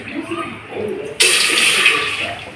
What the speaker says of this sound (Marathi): त्याच्यात पाणी टाकते मी आपल्याला पाहिजे तसं पाणी टाकून घ्यायचं